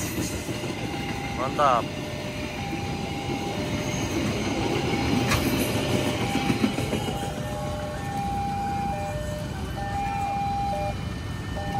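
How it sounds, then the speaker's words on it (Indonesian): Sembrani passenger train rolling through the Kalijaya level crossing in Cikarang, a steady loud rumble of wagons with clickety-clack and brief horn-like tones, while someone speaks briefly over it. "Tapi sembrani tambahan lagi melintas."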